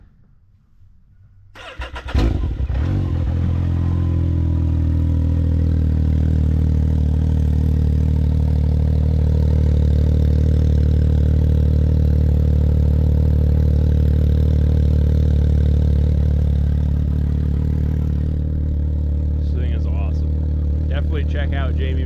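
A Can-Am X3 side-by-side cranks over and fires up after a short quiet moment, then idles loudly and steadily up close with a deep, even engine rumble that continues to the end.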